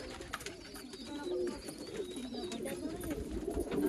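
Female Chinese-type pigeons at a Bangalore bird sale coo softly amid a busy, noisy background of other birds and ambient chatter, the calls low and continuous rather than distinct.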